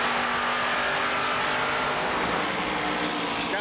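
IROC race cars accelerating on a restart at Talladega Superspeedway, a loud, continuous engine roar with a sustained high-pitched drone and no breaks, the pack heard together at full volume.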